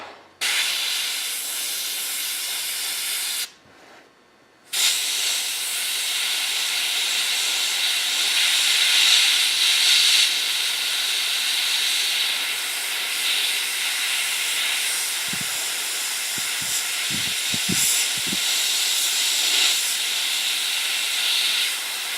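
Airbrush spraying paint onto the cockpit of a Tamiya 1:48 Nakajima Ki-84 model gives a steady close hiss that runs almost the whole time, stopping once briefly near the start, with a few soft clicks toward the end.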